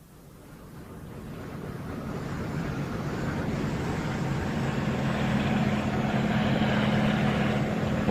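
Russian Kamov Ka-26 helicopter drawing closer as a radio drama sound effect, a steady broadband rotor and engine roar that swells gradually in loudness with a low droning hum, no voices over it.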